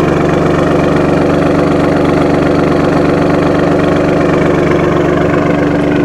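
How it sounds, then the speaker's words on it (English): A 2018 Alfa Romeo Stelvio Quadrifoglio idling with its quad exhaust, a loud, steady, deep engine rumble with a constant throb, close to the microphone and without any voices. "here's a listen to that mean idle"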